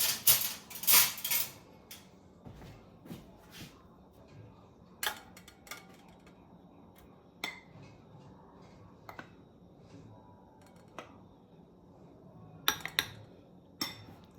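All-purpose flour and baking powder sifted into a bowl, a series of scattered metallic taps and clinks of a sieve against the bowl, some sharp and close, others soft, over quiet background.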